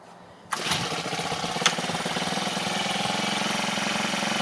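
A small engine on an FG110 mini tiller catches abruptly after near silence, then settles into a steady, close, buzzing idle with a single sharp knock shortly after startup.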